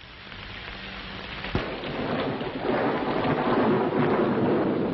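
Heavy, steady rain falls on a stormy August evening at a ranch house near Grapevine, Texas, with a sharp thunder crack early on before the downpour swells and roars on, with no voices.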